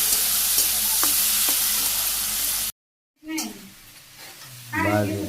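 Potatoes frying with onions in a pan in a Bangladeshi village kitchen, an even hiss of sizzling with a few stirring clicks, then a brief cut to silence followed by quieter scraping and a short burst of talk.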